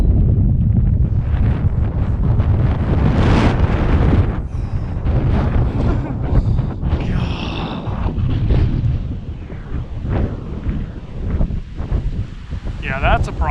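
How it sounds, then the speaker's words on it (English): Strong wind buffets the microphone in heavy rumbling gusts on a lake during a bass fishing tournament near Austin, rising and easing over several seconds, with faint voices mixed in. "The gusts are gonna be an issue, for sure."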